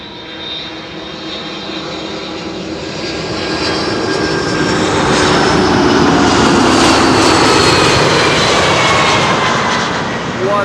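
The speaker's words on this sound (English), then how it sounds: "That's absolutely sounding like resonance of some sort." A fixed-wing airliner landing at Amsterdam Schiphol roars loudly and close, its engines giving a resonant droning tone that swells toward the middle and holds steady as it passes.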